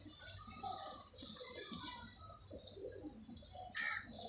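Pigeons coo softly and intermittently at a distance, with faint rustling and background noise and occasional brief bird calls.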